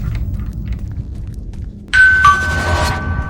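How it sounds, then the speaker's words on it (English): A synthetic two-tone doorbell chime in the video game Silence Channel rings out over a low background hum after a quiet stretch, its tones ringing and fading. "Once you hear the doorbell, they slide you the paper."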